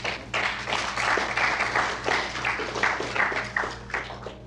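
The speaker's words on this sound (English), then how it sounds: "I think it's worth a round of applause." A round of applause breaks out in a small room for someone marking 70 days abstinent, many hands clapping steadily and close, with a low hum running underneath throughout.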